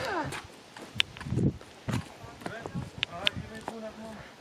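A horse walks along a path near a small monastery church in the Romanian countryside, its hooves clip-clopping faintly in an irregular rhythm beneath people talking.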